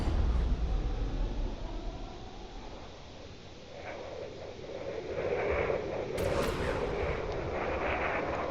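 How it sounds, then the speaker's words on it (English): Missiles launched far off in the space combat game Drone Wars, a low rumbling roar and distant booming blasts with a brief sharp crackle midway, layered over a continuous deep background drone. "Definitely some missiles being fired in the distance over there"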